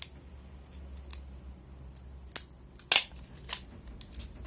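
The wrapper is peeled off a lithium-ion battery pack in a few sharp, scattered crackles and snaps that stand out against quiet background hiss.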